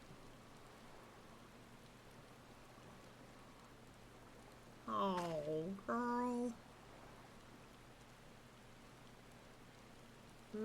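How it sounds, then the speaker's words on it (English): Rain falls steadily in Final Fantasy XIV, a soft even hiss running throughout while a voice briefly speaks over it. "Amidst the sound of falling rain, your voice called from within."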